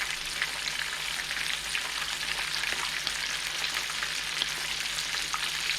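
Garlic shrimp frying in a pan, with a steady, dense sizzle and crackle of hot oil that keeps going at an even loudness throughout, no voices over it.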